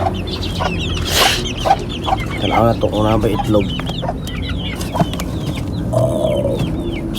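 Chickens cluck and chatter close by, with a few sharper calls, while someone speaks briefly over them.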